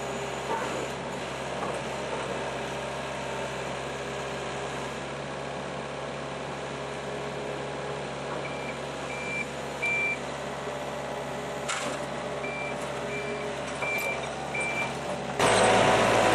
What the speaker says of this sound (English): I'm going to run around the other side here with the skid steer.